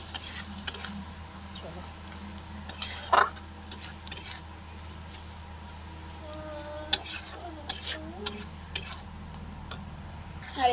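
Chopped tomatoes fry in a pan with cumin powder for a tilapia fish curry, giving a soft, steady sizzle broken by occasional stirring scrapes and clinks of a utensil against the pan.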